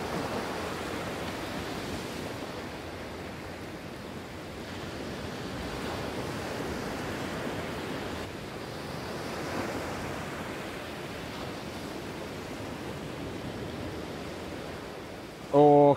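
Rough sea at sunset, heavy waves breaking in a continuous roaring wash with slow surges, mixed with wind buffeting the microphone, a brief knock at the very end.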